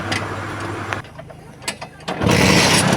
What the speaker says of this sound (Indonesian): Alhamdulillah mesin udah nyala.